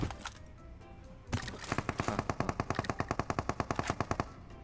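Rapid automatic gunfire in a video game rings out, first a few scattered shots and then a fast, steady burst of evenly spaced cracks, loud and close, with no talking.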